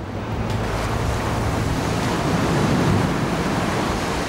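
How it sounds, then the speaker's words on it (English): Heavy surf from Typhoon Dujuan crashes and roars continuously on the Taiwan coast, with loud broadband wash and wind noise battering the microphone throughout. "The waves are already getting savage."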